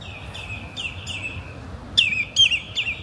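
A bird calling by the River Don near an old bridge in the evening: a series of thin high chirps, some drawn out and some clipped, with a sharper louder pair toward the end over a faint low background rumble.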